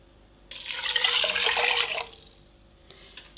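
Water poured into a bowl for cooking basmati rice, a close splashing gush lasting about a second and a half, then fading to quiet dripping.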